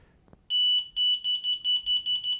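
A Delkim fishing bite alarm beeps in a steady, close run of about eight bright, identical tones that start abruptly and come faster toward the end, with no talking over them.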